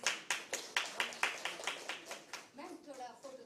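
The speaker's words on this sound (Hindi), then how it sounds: "तालियां विनोद गांधी से।" A seated audience at a tribal poets' meet in Bhopal applauds Vinod Gandhi, with quick, steady, evenly spaced claps close by for a couple of seconds before a voice takes over.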